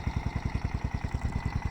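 A Yamaha Big Bear 350 ATV engine idling steadily, a close, low, even thumping pulse of rapid regular firing beats with no speech.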